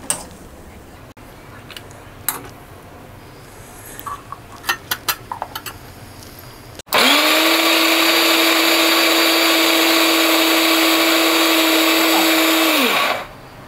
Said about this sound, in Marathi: वाटण हे आता मिक्सरच्या भांड्यात आपण आता काढून घेऊया आणि बारीक वाटून घेऊया.